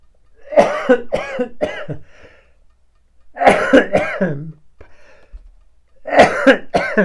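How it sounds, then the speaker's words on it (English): Three bursts of harsh, repeated coughing from a person with COPD, short pauses between them, close and loud, with a bit of throat clearing. "a little coughing fit there"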